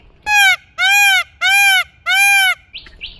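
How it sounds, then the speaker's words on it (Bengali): Four loud, drawn-out peacock calls repeat at an even pace, close by in a forest, followed by a couple of short softer cries. "এখানে আমরা পাখি ময়ূরের ডাক শুনতে পাচ্ছি"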